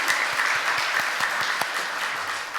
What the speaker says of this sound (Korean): 경의 박수 올려드리겠습니다.